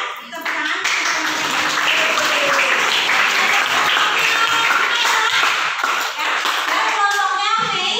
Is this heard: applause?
yes